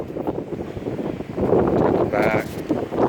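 Strong gusts buffet an outdoor microphone in a steady broadband roar that rises and thickens around the midpoint, with faint background noise and no clear voice.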